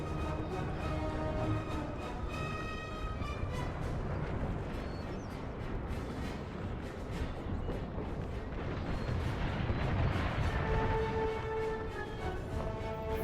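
Musket volleys and artillery fire from an American Civil War game battle in a burning forest, a continuous dense roar of overlapping shots and booms with scattered tonal game effects, steady and loud throughout.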